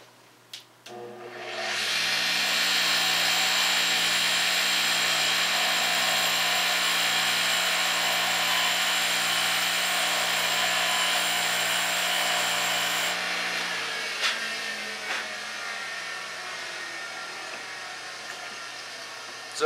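A grinder cuts down axle shafts for a GCM TerraMod rear axle, sending out a loud, continuous high-pitched whine for about eleven seconds before it spins down. Faint taps follow.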